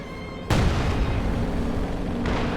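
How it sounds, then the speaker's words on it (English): A mine cooks off in the WWII strategy game Company of Heroes 2, a sudden loud blast with a long rumbling tail that stays heavy through the battle noise. "he just ends up cooking off the mine"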